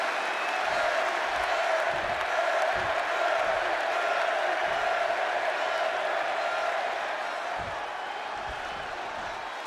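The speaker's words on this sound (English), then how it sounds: "just listen to this crowd here in Chicago" Arena crowd in Chicago roaring and cheering in the WWE 2K26 wrestling game, a steady loud wash of noise with faint low thumps running underneath throughout.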